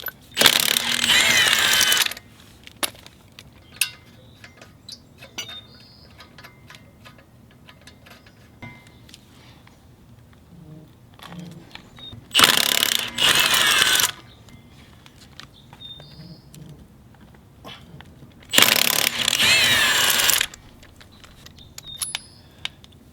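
A ratcheting power tool spins off car wheel lug nuts in three loud buzzing bursts of about two seconds each, separated by quiet stretches with faint clicks and handling noises.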